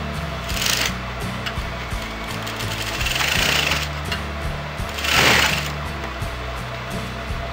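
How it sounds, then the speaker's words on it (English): A sewing machine stitches a kurti's sleeves onto the bodice, running in short rhythmic bursts with a steady mechanical chatter and a high whine, close and loud, with no talk. "So start sewing from the sleeves and go to the bodice."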